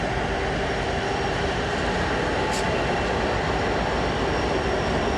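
Kansas City Southern freight train passing on Broadway Street in Fort Worth, Texas: a loud, steady rumble and roar of rolling cars with constant wheel noise, continuous and close throughout.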